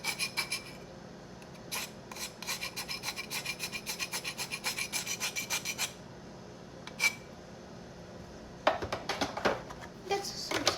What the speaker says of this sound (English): But I don't know how to really scrape the cinnamon.